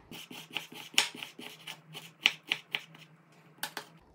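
A knife dices chicken breast on a cutting board, with quick, soft, rhythmic taps and scraping cuts coming close together and fairly quiet.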